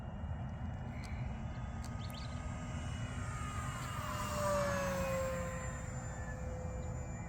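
Faint whine of an FMS 1500mm Cessna 182 RC model plane on a 4-cell battery passing at full throttle, rising in pitch and loudness then sliding lower as it flies by over a steady background hum.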